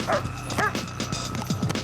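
A police dog barks and yips in quick, close bursts, several sharp woofs in under two seconds, fairly loud, with no speech over it.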